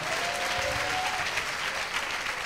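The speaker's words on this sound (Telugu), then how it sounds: "చప్పట్లు కొడదాం గట్టిగా." Loud, sustained applause from a church congregation during a Telugu sermon, steady dense clapping filling the whole stretch without a break.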